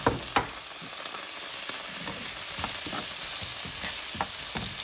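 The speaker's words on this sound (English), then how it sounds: "saute the onions" Onions sautéing in a pan, a steady close sizzle broken by the scrape and clatter of stirring, with no talk over the frying.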